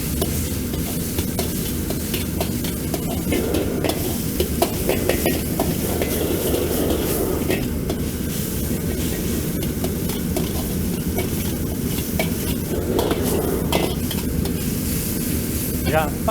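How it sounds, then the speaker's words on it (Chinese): Half-fat, half-lean minced pork stir-fried in a wok over low heat for Sichuan dry-fried green beans. It sizzles steadily and close up, with a spatula scraping and stirring throughout and no one speaking. "肉末放进去给它炒散"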